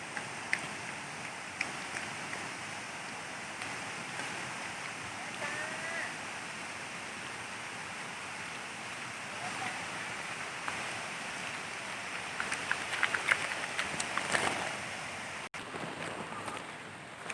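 Continuous broadband rush of a waterfall at Ton Sai waterfall, steady and moderately loud throughout, with a few brief sharper splashes or knocks toward the end and no clear talk.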